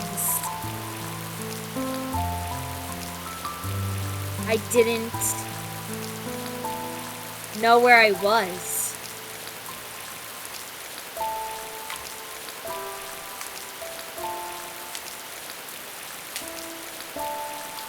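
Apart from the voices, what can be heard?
heavy pouring rain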